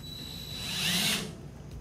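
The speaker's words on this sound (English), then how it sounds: "You got your pilot there and just drill it." Power drill with a pilot bit boring a hole in a shop during a fuel pump retrofit, a short close whine that swells and fades over about a second.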